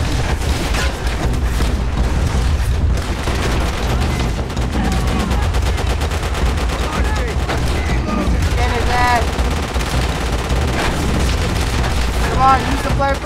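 Dense, loud machine gun fire and explosions fill a World War II beach assault in Call of Duty: World at War, sustained bursts under shouted voices throughout.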